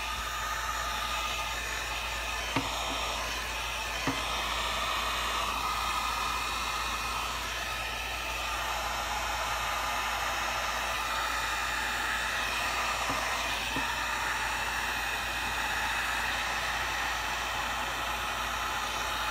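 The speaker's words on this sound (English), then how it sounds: "we're going to go back to the heat gun again." Heat gun blowing steadily on alcohol inks mixed with metallic powder, a continuous loud airy roar with a few faint ticks and no talking.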